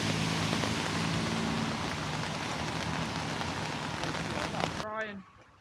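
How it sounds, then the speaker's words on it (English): Steady warm rain pours down in Riga, a dense hiss on surfaces with faint voices underneath, ending abruptly near the close as a sliding tonal sound cuts in. "Afraid it's raining, folks. Warm rain."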